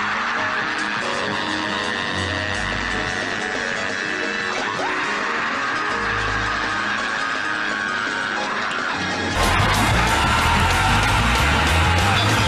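A preacher screams loudly during a church service, a raw yelling voice over a dense, continuous wash of congregation noise and music that swells louder near the end.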